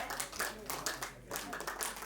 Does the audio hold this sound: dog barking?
no